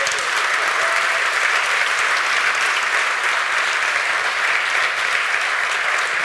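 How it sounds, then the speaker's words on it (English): An audience breaks into sustained applause, a dense, even wash of clapping that holds steady at full volume from start to finish with no talk over it. "can you give him a nice round of applause?"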